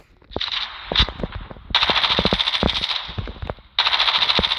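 An MP5 submachine gun fires in Call of Duty Mobile during a range test, heard as loud, rapid automatic bursts with short pauses between them.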